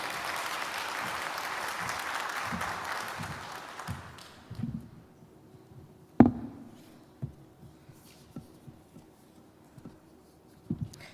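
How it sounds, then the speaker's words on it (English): Applause from the audience at a First Ladies summit welcoming the First Lady of Zimbabwe, steady clapping that fades out after about four seconds, leaving scattered taps and knocks in a quiet room. "Round of applause for her."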